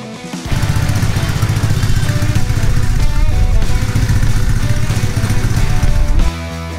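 An old BMW motorcycle engine runs as the rider sets off on a ride through London, a loud steady throbbing rumble that starts abruptly and holds for about six seconds before dropping away.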